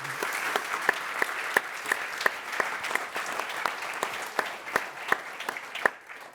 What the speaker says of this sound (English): Let's give a round of applause for them getting through the lightning round.